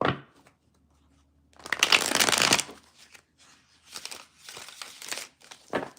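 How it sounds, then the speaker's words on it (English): Tarot cards riffle and flutter in quick bursts, one long shuffle followed by several shorter ones, close and crisp with no talking. "Now I will do the shuffling 3 times like I normally do."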